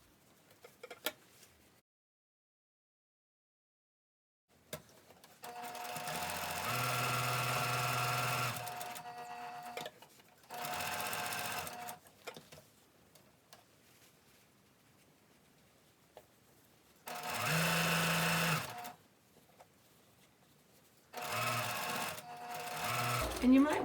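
A sewing machine stitching fabric for an Olson face mask runs in several loud steady bursts of rapid stitching separated by pauses, with a person talking between runs.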